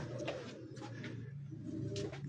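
Pigeons on a rooftop coo in a steady low murmur, close and continuous, with faint background noise and no clear speech.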